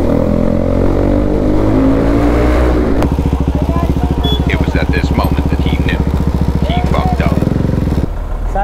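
A motorcycle with a modified silencer on an expressway, its engine loud and close with a steady rapid exhaust pulse after an initial rev, running continuously with faint voices underneath.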